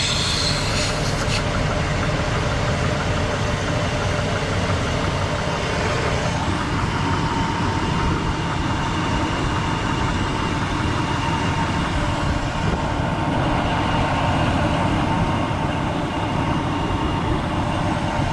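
A steady, loud engine drone runs without a break, likely the Griswold Family Truckster being driven hard to warm its oil, heard alone with no talk.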